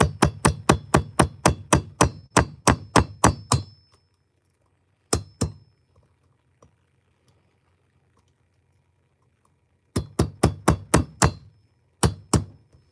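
Hammering and chipping at the crankcase oil seal of a 200T: rapid runs of sharp metallic knocks, about a dozen close blows, then a pause, a pair of strikes, silence, and two more quick bursts near the end.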